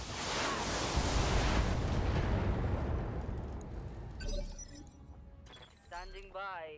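A loud missile barrage in the video game Battletech, a roaring, crashing blast that fills the first few seconds and slowly fades, followed by fainter thumps and a brief electronic tone near the end.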